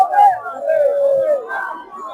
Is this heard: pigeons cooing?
no